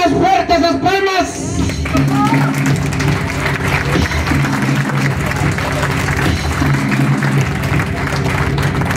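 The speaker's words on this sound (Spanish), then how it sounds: "Que se escuchen más fuerte esas palmas" Loud, sustained applause from a crowd at a quinceañera waltz celebration in Oaxaca, dense clapping running throughout, with music and voices blended in underneath.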